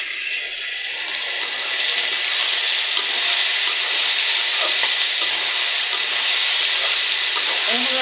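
Dried fish (shutki) frying in oil with spices in a pan, a steady loud sizzle and hiss that continues throughout, close up and without pause.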